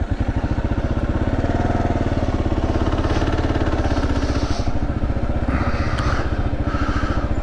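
A 2024 Kawasaki KLR 650 single-cylinder engine runs steadily and loud throughout while riding off-road on a steep desert hill, with a continuous close throbbing note and some mechanical clatter.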